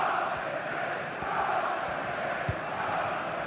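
A stadium crowd roars in EA Sports FC 25 during a Manchester City versus Manchester United match, a dense, continuous wash of cheering and chanting that holds steady throughout.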